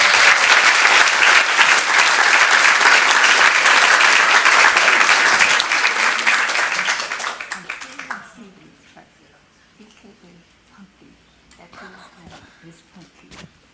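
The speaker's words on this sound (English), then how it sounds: "Give them a huge round of applause" An audience at a city council meeting claps in a loud, dense burst of applause that holds for about seven seconds, then tapers off quickly into quiet room noise with a few murmurs.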